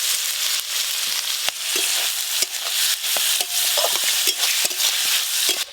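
Crushed garlic, chopped onion, green chili and cumin fry in oil with a loud, steady sizzle, broken by frequent scraping clicks of a spatula stirring the pan.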